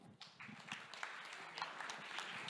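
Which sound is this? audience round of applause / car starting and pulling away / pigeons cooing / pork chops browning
audience round of applause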